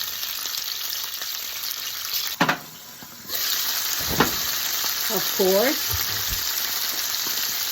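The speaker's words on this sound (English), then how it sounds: "Now we're sauteing the peppers in olive oil, of course." Peppers sauté in olive oil in a pan with a constant close sizzle, broken by a few clanks and stirring scrapes and a short lull where the sound drops away.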